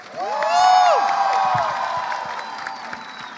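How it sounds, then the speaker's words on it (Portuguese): A crowd at a book fair panel in Rio cheers and applauds, with high whoops and shouts rising over the start, then easing into a softer, spread-out wash of clapping. "uma salva de palmas para todo mundo que está aqui."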